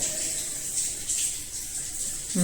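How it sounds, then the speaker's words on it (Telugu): Water running from a household tap, flushed through to clear old water from the pipes, a steady faint hiss of flow with a brief low gurgle near the end. "ముందు వాటర్ వదిలే."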